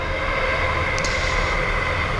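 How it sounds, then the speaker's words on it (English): A British Western Railway train passing by outdoors in nature, a loud steady rumble of wheels and carriages with a brief high squeal midway, continuous and close. "as this iconic British Western Railway is passing by"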